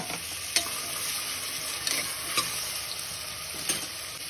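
Onions and green chillies fry in a pan for a Hyderabadi mutton curry, a steady close sizzle with occasional clicks and scrapes from stirring.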